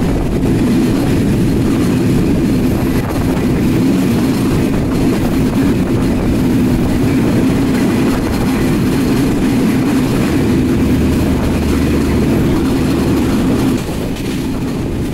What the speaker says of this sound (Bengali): আন্তনগর কপোতাক্ষ এক্সপ্রেস আব্দুলপুর জংশন থ্রুপাস